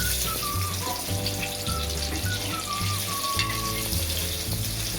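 Stuffed bitter gourds frying gently in a little oil over low heat, a steady soft sizzle running throughout with a low recurring hum and faint clinks, no voices.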